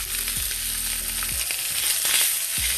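Vegetables and potato sizzle and crackle in a hot pan, a loud steady frying hiss with a few low clanks of stirring.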